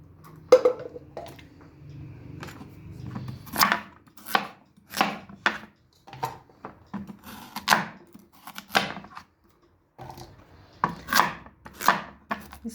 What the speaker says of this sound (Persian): الان همه رو خورد میکنیم درشت